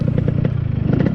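Yamaha RX100 two-stroke motorcycle engine revving up close, a loud, rapid crackling and buzzing exhaust note with pulsing throttle blips.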